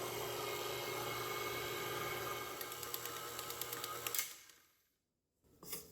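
A stand mixer kneads soft glazed donut dough with a steady, close motor whir and faint rhythmic clicking, then winds down to a stop before a short bump.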